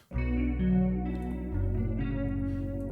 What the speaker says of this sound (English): Add a little chorus onto it